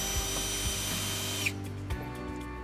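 A power tool spins a 7mm socket on fasteners under a Cadillac ATS during trailer hitch installation, a steady whir with short bursts and clicks, then a quieter stretch.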